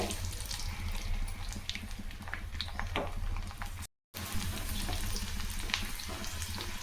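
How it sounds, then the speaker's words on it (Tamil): Garlic cloves fry in sesame oil in a pan for a Chettinad-style fish curry, producing a continuous close crackling sizzle that cuts out for a moment midway before resuming. "10-12 பல் பூண்டு சேர்த்துங்க."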